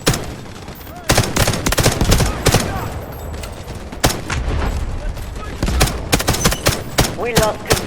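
Gunfire in the video game Delta Force Hawk Ops: dense, loud bursts of rapid automatic shots with scattered single cracks and booms, heard close over a steady battle din while players shout.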